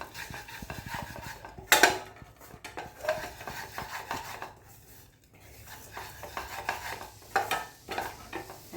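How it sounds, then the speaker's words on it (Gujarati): Dry fruits are lightly sautéed in a pan, with a soft sizzle under intermittent scraping and stirring of a spoon against the metal and one sharp clink, close by and quiet. "હવે આપણે આ ડ્રાયફ્રૂટ જે છે એને પણ સહેજ સાંતળી કાઢીશું."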